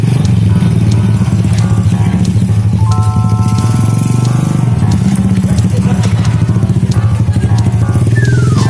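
A motorcycle engine runs close and loud in a steady, rapid putter, with a rattling clatter over it and a brief horn-like tone near the end.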